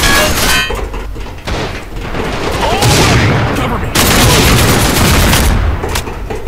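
Gunfire from a Line of Sight shooter video game rattles in dense, loud bursts and volleys, nearly continuous across the stretch with heavy thuds mixed in.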